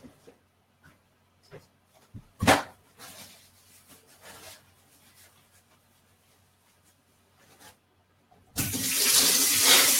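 Water gushes steadily from a kitchen or bathroom tap, loud and broadband near the end after scattered quiet clinks and small handling sounds.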